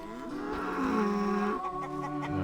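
A prize-winning cow in The Witcher: Enhanced Edition lets out one long, loud, close moo that drops in pitch partway through before trailing off.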